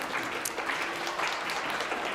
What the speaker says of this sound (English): All right, everyone clap for John, our alpha wolf.